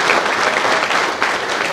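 A crowd applauds at a barbecue competition finals, a short, steady burst of dense clapping throughout.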